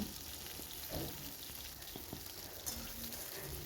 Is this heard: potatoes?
yes